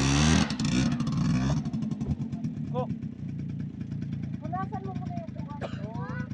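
A motorcycle engine idles and revs with a steady throbbing rumble on red sand in Unaizah, Saudi Arabia, while voices chatter nearby over it.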